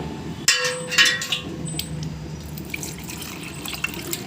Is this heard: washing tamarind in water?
yes